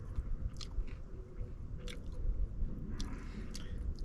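Crunchy fried spring herb tempura, made outdoors at a mountain campsite, is bitten and chewed right at the mouth, giving dense, continuous crackling crunches with a few sharper bites, loud and close and without speech.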